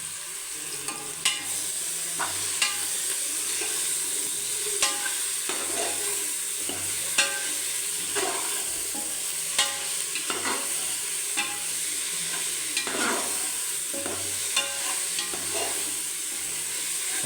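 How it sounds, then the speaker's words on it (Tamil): Ginger garlic paste sizzles and crackles in a pan while a spoon stirs it repeatedly for a homemade chicken biryani, a steady close frying hiss broken by regular scraping strokes, with no talking. "200 கிராம் இஞ்சி பூண்டு விழுது. அதை அப்படியே கிண்டிக்கலாம்."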